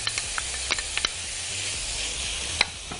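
Chopped onions sizzle in a hot pan for a Egyptian-style fava bean dish with tomato and vinegar, a steady close hiss broken by small crackles and pops, with no talking.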